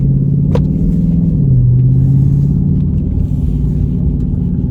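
A 2020 Dodge Charger Scat Pack widebody engine fitted with a Pedal Commander revs up hard, a steady loud low rumble with a pitch rise and fall, close by and continuous.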